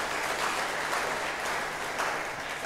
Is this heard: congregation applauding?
yes